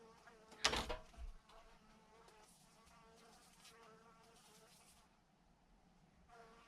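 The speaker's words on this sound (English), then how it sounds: "I hate bees." Insect buzzing, likely a bee flying aggressively close by, with a loud burst near the start followed by a fainter, continuing hum and flutter.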